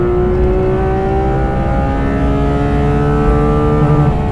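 A Porsche 991.2 GT3 RS engine winds up loud and close toward its rev limiter, a smooth rising high-pitched howl with a steady droning tone underneath.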